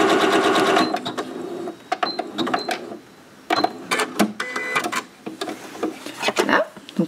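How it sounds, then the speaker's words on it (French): A sewing machine runs a zigzag stitch along leggings fabric in loud, close bursts of rapid mechanical whirring that stop and restart several times, with short pauses and handling noise between runs. "je vous fais un petit coup machine à coudre, un petit coup sur jeteuse"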